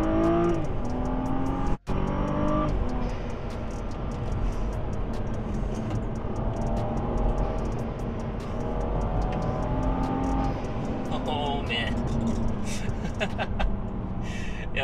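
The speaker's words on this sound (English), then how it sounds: "I'm probably just going to take the car around that road one more time" BMW 435i lowered on KW V1 coilovers driving on a road, its engine humming and rising with acceleration under steady road and wind noise from inside the cabin, with a person talking over it.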